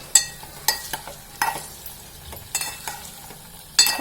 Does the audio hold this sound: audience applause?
no